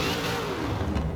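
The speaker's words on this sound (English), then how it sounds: "Oh yeah, you can hear those superchargers whine." Koenigsegg Regera supercharged hypercar in Forza Horizon 4, its engine droning steadily with a faint high whine over a dense, continuous roar for about a second.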